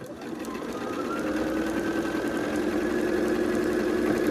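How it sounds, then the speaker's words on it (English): A sewing machine stitching pieces of an Ohio Star quilt block, running at a steady continuous hum that builds slightly and holds level, close and alone. "put it under my presser foot, take 2 or 3 stitches, and then come down"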